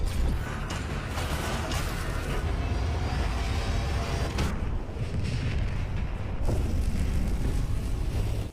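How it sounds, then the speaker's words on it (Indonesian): A robot explodes in a sci-fi war film, heavy booming blasts and rumbling debris with deep low-end roar, loud and continuous, punctuated by sharper bursts near the middle and end. "hal itu menyebabkan mesinnya panas dan akhirnya si robot pun meledak"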